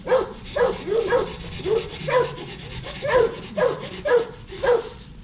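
Dogs bark repeatedly in an uneven rhythm, close and fairly loud, about a dozen sharp barks in quick succession.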